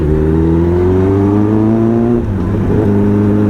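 A Kawasaki ZX10R superbike engine revs close by and loudly, a continuous throaty drone that climbs in pitch, dips briefly and rises again, with no talk over it.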